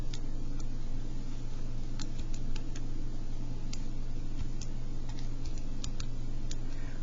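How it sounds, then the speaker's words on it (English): Someone types on a computer keyboard while entering values for a physics problem. Light, irregular key clicks run over a steady electrical hum and background hiss. "I'm going to be typing it in almost exactly as I see it."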